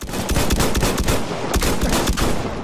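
Dense gunfire in the online multiplayer shooter Battlefield 1, loud rapid bursts and single cracks overlapping continuously, with heavier shots standing out near the middle.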